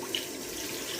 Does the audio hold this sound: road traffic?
no